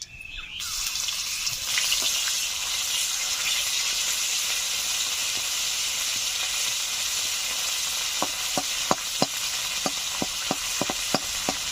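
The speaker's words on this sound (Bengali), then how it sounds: "পেঁয়াজ, রসুন, আদা বাটা দিয়ে দিচ্ছি।" Onion, garlic and ginger paste fries loudly in hot oil with a dense, continuous sizzle, followed by a run of sharp spoon scrapes and taps against the pan toward the end.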